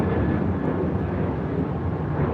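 A Delta Boeing 737-900ER jet taking off at LAX gives a steady, dense engine roar at moderate distance with no voices over it.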